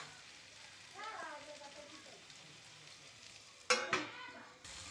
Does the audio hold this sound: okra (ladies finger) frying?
yes